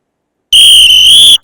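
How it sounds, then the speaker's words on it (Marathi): A single sharp, shrill whistle blown for primary schoolchildren during a school election event, loud and steady for under a second before stopping abruptly after silence. "एकदा शिट्टी वाजून द्या बरं मुलांना."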